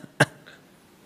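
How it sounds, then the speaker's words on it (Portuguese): A single short cough from one person indoors, sharp and close, followed by quiet room tone. "Aí começa a tossir."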